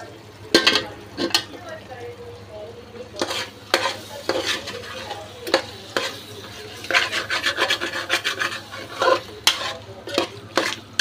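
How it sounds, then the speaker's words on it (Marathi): Stirring prawn gravy with onion and tomato in a pan: repeated scraping and rasping strokes of a spoon against the pan, close and fairly loud, over a faint low sizzle, with no talking. "फिरून घ्यायचे छान अशी ग्रेव्ही आपल्याला"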